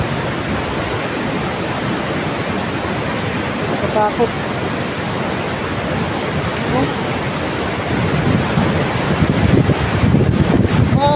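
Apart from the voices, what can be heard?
rushing water at the old Wawa Dam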